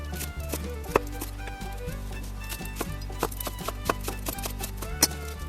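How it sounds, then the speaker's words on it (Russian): Knife slicing an onion into rings on a cutting board, a steady series of sharp, close taps and chops repeating irregularly about once or twice per second. "Лук нарезаем кольцами."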